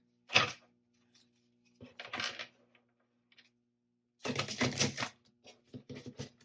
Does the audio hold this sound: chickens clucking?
no